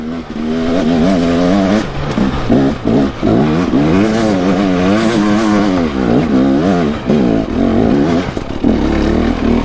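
A motorcycle climbing a hill in second gear roars loud and close, its engine note rising and falling with the throttle and clutch slips in a continuous, wavering howl.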